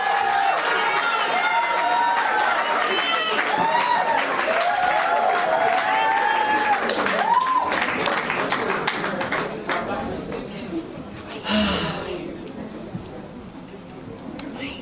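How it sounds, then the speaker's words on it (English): Audience at a women's month event applauding as a guest is introduced, sustained crowd clapping with cheers and voices, fading toward the end as a speaker talks over it. "So please help me do a warm applause for my big sister,"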